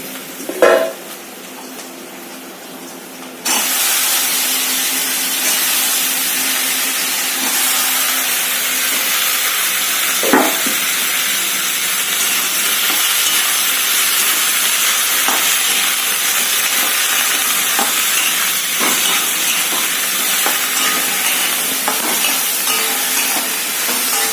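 Eggplant is added to a pan of fried onions for a dried-fish dish. A quieter start jumps into a loud, continuous sizzle and hiss that lasts over twenty seconds, with occasional stirring scrapes and clinks.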